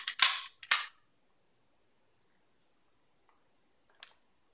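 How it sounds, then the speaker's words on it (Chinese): The bolt of a Yugoslav Mauser M24/52c rifle is worked in two sharp, close metallic clacks in quick succession. A brief faint click follows in near silence. "拉起来以后，这个枪栓就出来了。"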